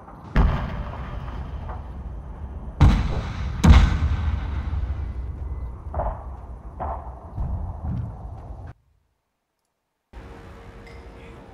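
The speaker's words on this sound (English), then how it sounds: "Let's deploy this artillery. We shall cut them down." Artillery booms and scattered gunfire crackle in the video game Fall of the Samurai, with several heavy blasts early on, then lighter clicks and pops before a brief silence and renewed battle noise.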